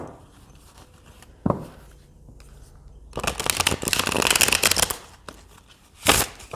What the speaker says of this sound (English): Now let's see how they shuffle this way.